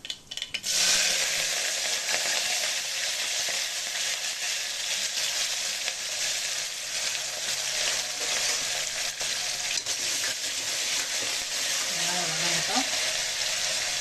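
Onions frying in oil seasoned with fenugreek and mustard seeds for kara kuzhambu, a constant close sizzle with occasional stirring clinks that runs unbroken for about fourteen seconds.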